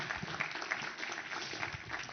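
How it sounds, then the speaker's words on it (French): A conference audience gives moderately quiet, sustained applause at an opening plenary, a steady spread of clapping with no one speaking over it. "je vous demande d'applaudir Hafsat à nouveau."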